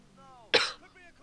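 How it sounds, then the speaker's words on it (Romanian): A single sharp cough from a man with a cold while playing GTA IV, loud and abrupt, with faint game engine drone before and after. "Bă, dar ce dracu am de tușesc așa?"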